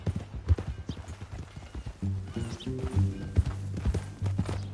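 Horse hooves clip-clopping at a steady walking rhythm in Red Dead Redemption 2, close and clear, with low in-game music or ambience underneath and a brief whinny-like tone.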